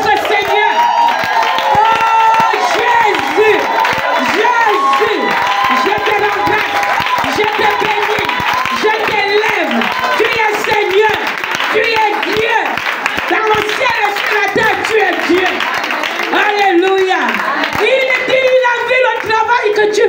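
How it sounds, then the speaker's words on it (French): A church congregation claps and cheers for a long stretch, with crowded clapping under loud, overlapping voices calling out and singing. "Donnez les vraies acclamations à notre Seigneur."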